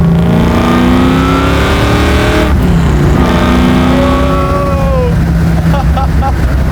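A supercharged Chevy Camaro pro-touring build revs loudly up close, with a sustained roar that rises in pitch and drops away. Quick throttle blips follow in the second half.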